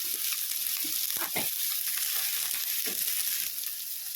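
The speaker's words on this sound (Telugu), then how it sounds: "ఇవన్నిటిని ఒకసారి హై ఫ్లేమ్ మీదనే వేగనిద్దాము." Mixed vegetables sizzle and fry steadily on high flame in a pan for restaurant-style veg fried rice, a loud continuous hiss with a few stirring scrapes and no talk.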